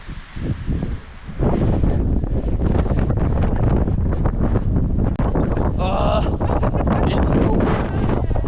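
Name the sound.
strong wind on microphone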